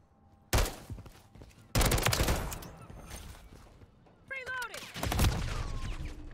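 Gunfire in the Call of Duty Modern Warfare 3 video game comes in sharp loud bursts of shots separated by short gaps, with other game sounds between them.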